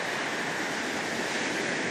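Big ocean waves break and roar steadily at Kamogawa's surf beach, a continuous loud wash of surf with no voices over it.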